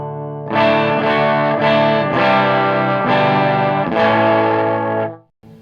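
Electric guitar with a clean tone shaped by the guitar's volume knobs, several strummed chords ringing out loud and sustained, each new strum roughly every second, then cut off abruptly, no talking.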